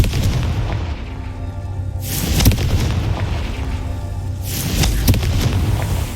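In the video game Hogwarts Legacy, a Confringo fire spell bursts into explosions, two heavy booming blasts a few seconds apart, each with a rumbling roar that lingers and fades.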